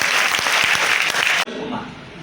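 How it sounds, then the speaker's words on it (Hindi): Audience applause for a student named Jasmine at an induction session for a batch of Bihar students, a full, dense burst of many people clapping that cuts off abruptly, followed by a quieter room with faint talk. "जस्मीन के लिए ताली बजाइए।"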